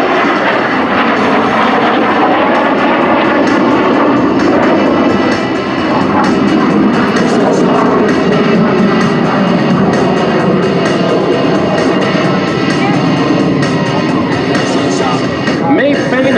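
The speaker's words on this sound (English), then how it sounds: "please welcome Jason Solms and the Soviet MiG-17F Fresco." A Soviet MiG-17F Fresco jet passes at an air show, a loud, continuous broadband engine roar filling the whole stretch with a steady rushing intensity, while an announcer's voice carries faintly underneath.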